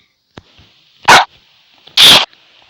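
A dog, one of a pair that recently had puppies, gives two loud, sharp barks about a second apart, close by, after a faint click.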